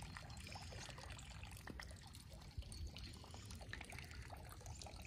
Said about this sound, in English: we really love these fountains, so we always film them in our different videos